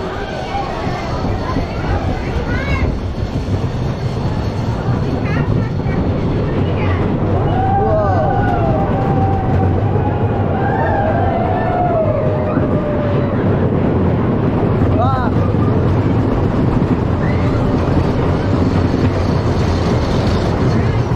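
A ride on Phoenix, the wooden roller coaster at Knoebels, with a steady loud rumble and wind roar throughout, rattling track noise and faint rider voices and screams in the background.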